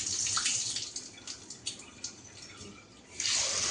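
Sorghum grains are washed in a bowl of water, with soft sloshing and trickling close by and a louder gush of pouring water near the end.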